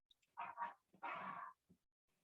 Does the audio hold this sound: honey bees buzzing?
no